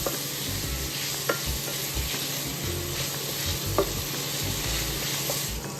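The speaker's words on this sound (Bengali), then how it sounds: "গাজর বিনস আর মটরশুঁটি ক্যাপসিকাম পেঁয়াজ অ্যান্ড কাঁচা লঙ্কা নুন গোলমরিচ দিয়ে সমস্ত সবজিগুলোকে ফ্রাই করে নিচ্ছি" Carrots, beans, peas, capsicum, onion and green chilli with salt and pepper sizzle steadily in a pan, with occasional stirring scrapes and clicks of a utensil over a constant hiss, no one speaking.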